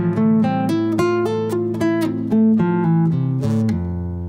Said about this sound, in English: So you end up with an arpeggio that sounds like this.